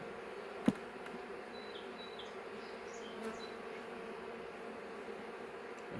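Honey bees, nurse bees on a drawn-comb frame pulled from a nuc box, make a steady soft buzz throughout, with a brief sharp knock near the start and a few faint higher whines drifting over the hum.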